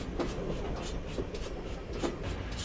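A Class 6000 King steam train in a railway simulator rolls steadily into a short platform, with a continuous low rumble and periodic wheel clicks over rail joints, heard alone.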